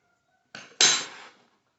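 Metal plates for an Eureka ergonomic gaming desk are handled during assembly, a short scrape followed by a bright ringing metallic clank that decays over half a second, close and alone.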